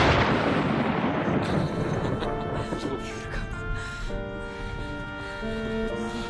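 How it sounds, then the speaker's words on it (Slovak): Thunder from a first storm booms loudly at the start, then rumbles and slowly fades beneath sustained music. "Tuším, je tu prvá búrka."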